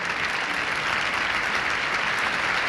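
An opera audience at a 1956 New York performance of Lucia di Lammermoor applauds the conductor and orchestra, with dense, steady clapping from a large crowd filling the hall throughout.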